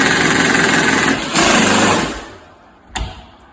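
A small Ryobi power tool runs at a loud, high-pitched whine, briefly dips, revs again, then winds down, followed by a single sharp knock.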